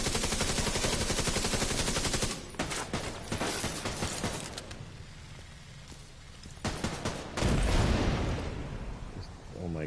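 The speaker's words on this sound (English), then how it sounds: "That explosion was fucking horrific" Gunfire and a blast from the video game The Division 2, with rapid bursts of shots, then a heavy boom rising near the end, loud and close while a player talks over part of it.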